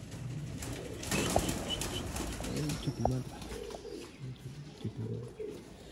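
Pigeons coo in soft, low repeated calls nearby, with a brief flutter of wings and faint background murmur.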